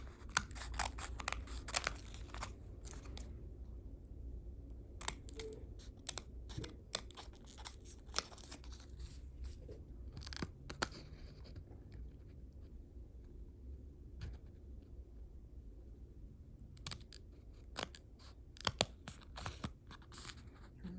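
Scissors snip through a printed paper crate cutout, giving crisp, close, irregular cuts with small pauses and light paper rustling and crinkling between them, with no talking.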